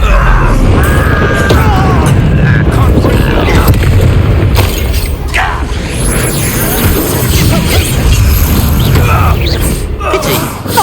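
The Incendio fire spell is cast in combat in Hogwarts Legacy, a loud fiery burst and whoosh among crashing battle effects and booming impacts, with voices shouting over the dense, continuous din.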